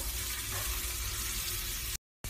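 Garlic frying in a pan on top of softened onions, a dense steady sizzle heard up close, briefly cutting out near the end, with no talk.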